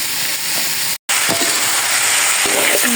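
Chopped vegetables frying in a pan, a loud close continuous sizzle and hiss broken by a brief silent gap, with faint stirring clinks near the end.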